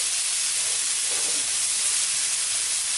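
Rainbow cauliflower rice with carrots starts cooking in a pan, giving off a steady, fairly loud hissing sizzle that holds evenly throughout with no talk.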